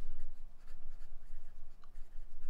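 A black TWSBI Eco fountain pen filled with Noodler's ink scratches softly across Oxford Optik paper, with quiet, continuous strokes and small pauses between them.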